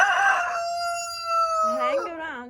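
A Red Junglefowl rooster crows nearby, a single loud, drawn-out cock-a-doodle-doo with a strained, wavering finish, alone in the clip.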